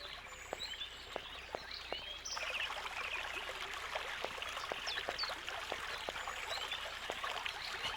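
Flowing water in the video game Syberia makes a soft, steady trickle and stream sound, with scattered light drips and ticks over a continuous wash.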